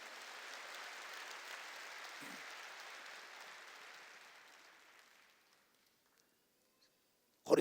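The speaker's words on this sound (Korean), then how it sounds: "깨달은 사람만 박수 치세요" A church congregation claps together during worship, a dense, even wash of applause that gradually tapers off and dies away into near silence, followed by a brief loud sound at the very end.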